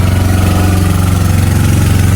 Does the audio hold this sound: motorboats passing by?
yes